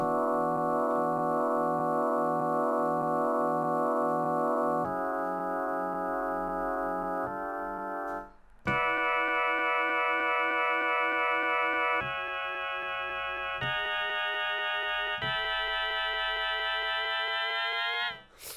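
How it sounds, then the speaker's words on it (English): A crunchy, lo-fi bit-crushed electronic drum beat made with Logic's stock sounds, with gritty, distorted tones, playing steadily and loudly with a few shifts in pattern and pitch throughout. "it would sound kind of like bit crushed, which I thought sounded amazing"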